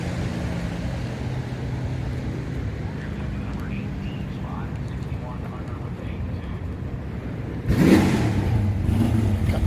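Jason Line's Buick stock eliminator drag car at an NHRA drag strip, Bristol Dragway, heard as a steady engine rumble under crowd noise, with a louder burst of revving near the end.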